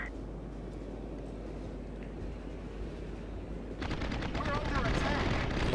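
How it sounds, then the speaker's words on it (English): Anti-aircraft guns in World of Warships pound away at a squadron of torpedo bombers; a dense, continuous rattle of gunfire thickens into heavier rapid bursts partway through, loud and close. "This torpedo bomber squadron is taking a ton of fire."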